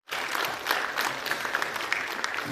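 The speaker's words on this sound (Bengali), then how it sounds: "সবাই মিলে প্লিজ শ্রী সুমন বণিক মহাশয়ের জন্য একবার জোরদার করতালি হোক" Audience applause at a National Voters' Day event honouring a guest on stage, starting abruptly and continuing as dense, even clapping with scattered sharper claps throughout.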